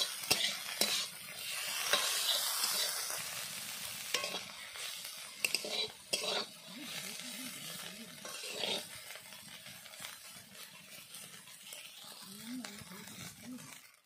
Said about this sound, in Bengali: তিন থেকে 4 মিনিট মতো ভেজে নিতে হবে।